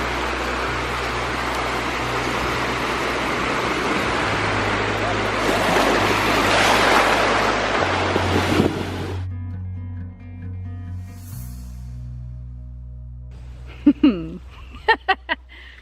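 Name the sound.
waves on small rocky beach, North Beach, Prince Edward County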